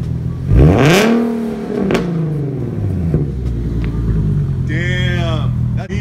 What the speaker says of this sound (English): Rev it louder.